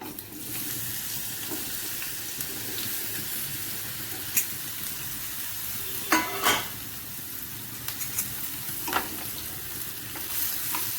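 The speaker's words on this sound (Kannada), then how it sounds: "ಮೆತ್ತಗಾಗೋವರೆಗೂ ಹೀರೆಕಾಯಿನ ಹುರ್ಕೋಬೇಕು" Ridge gourd frying in oil in a pan for chutney, a steady close sizzle broken by a few sharp clinks and scrapes of stirring, with faint running-water sounds in the background and no talking.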